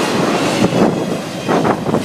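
A Florida East Coast freight train rolls past close by, a loud, steady rumble and clatter of rail cars with wind buffeting the microphone.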